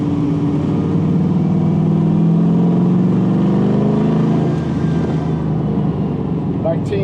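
A 1969 Chevrolet C10 pickup with an LS3 V8 and six-speed manual on a test drive, its engine a steady loud cabin drone with a gradual rise and fall in pitch, and a voice speaking briefly.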